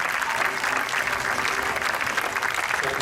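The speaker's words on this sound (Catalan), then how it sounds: "Un aplaudiment ben fort per a Miquel" Audience at a Catalan amateur music concert gives loud, sustained applause: dense, steady clapping from a crowd with no break in the sound.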